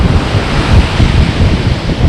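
Sea waves wash up on the eroding coast at Hemsby or Happisburgh, a loud close churning roar of surf mixed with heavy wind buffeting the microphone.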